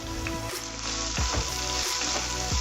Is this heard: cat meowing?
no